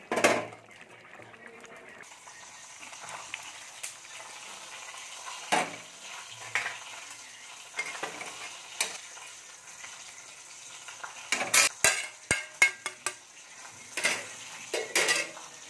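A spoon scrapes and stirs vegetables and rohu fish curry in a pan over quiet frying, with scattered clinks and knocks against the metal, some sharp bursts clustered near the end.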